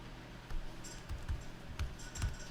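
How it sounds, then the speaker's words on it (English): Keystrokes tapped on a computer keyboard during graphic design work, a handful of distinct clicks spaced irregularly over a steady low room hum, close and moderately loud. "Let me type this time"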